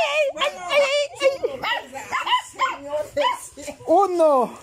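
Several small dogs bark and yip in short, sharp bursts close by, mixed with a person's excited, frightened shouting and counting over the barking.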